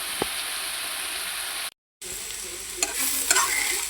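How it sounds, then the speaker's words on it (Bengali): Potatoes fry in hot oil with a steady, even sizzle close by, briefly cut to silence, then resuming with occasional clinks and stirring scrapes in the pan. "এখন আমি আলুগুলি বাজিয়ে নিতেছি"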